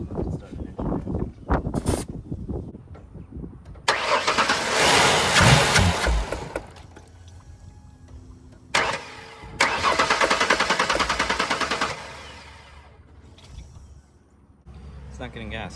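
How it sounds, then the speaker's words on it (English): A van engine with a fuel fault cranks in two long bursts without catching, loud and close, with brief gaps and quieter handling noises before, between and after. "Let's see if this flame will start an engine."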